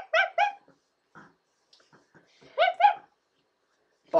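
A person imitates a dog with sharp, yappy puppy-like barks, voiced in two quick pairs separated by quieter breathy sounds, with a final bark cut off at the end.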